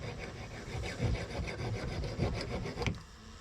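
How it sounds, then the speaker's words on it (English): Junior hacksaw sawing through a sailboat boom fitting, a steady run of rasping strokes close up for about three seconds, then stopping abruptly. "it's down to a junior hacksaw"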